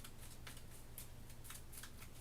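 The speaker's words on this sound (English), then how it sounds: "So we shuffle up these AI cards" Game cards for Kingdom Death: Monster are shuffled by hand in quick riffles, a series of soft crisp ripping bursts in a rough rhythm, close and quiet.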